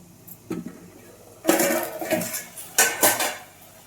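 A spoon stirs tomato egg curry in a lidded pot with a single soft clink. Then comes a burst of loud metallic scraping and clanking against the pot, and another clatter near the end.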